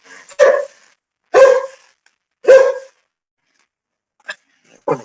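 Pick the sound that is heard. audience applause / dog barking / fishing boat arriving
dog barking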